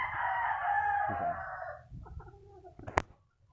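Golden monkey sweater rooster crowing once, a loud nearby cock-a-doodle-doo trailing off, followed by softer clucks and a sharp click.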